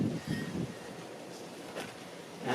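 Wind gusting outdoors, a soft, uneven rushing and buffeting against the microphone at low level, rising and falling in short swells.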